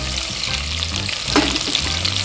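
Chilies frying in hot oil in a pan for tamarind rice (puli sadam), a steady close sizzle with a brief stir scrape midway.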